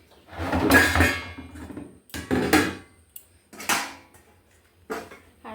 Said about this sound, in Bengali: বাসন কটা উপর দিয়ে দিই